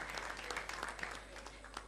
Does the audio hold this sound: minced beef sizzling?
no